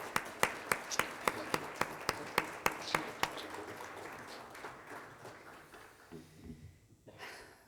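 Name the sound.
audience round of applause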